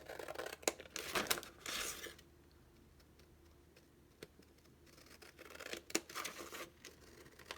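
Scissors cut through two stacked sheets of wrapping paper in slow, careful bursts of crisp snipping and rustling, with quiet pauses between the cuts.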